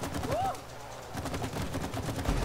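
Gunfire from the co-op video game It Takes Two crackles steadily through a busy game mix, with a whooshing effect early on and voices faintly underneath.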